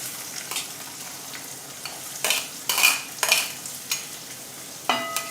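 Garlic, green chilli and onion sizzle in a pan for paneer bhurji. A steady frying hiss is broken by several loud bursts of scraping and stirring, and there is no talking.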